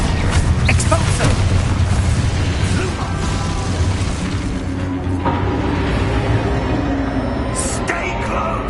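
In Hogwarts Legacy, an Expulso blasting spell explodes in the middle of a loud battle, with booms, pops and mechanical clatter layered over game voices.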